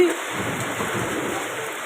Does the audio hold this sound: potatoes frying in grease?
no